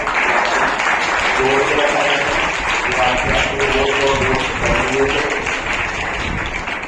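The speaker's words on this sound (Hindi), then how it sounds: "इनके लिए जोरदार तालियां।" Steady applause from a crowd at an awards ceremony fills the whole stretch, dense and continuous, with voices mixed in underneath.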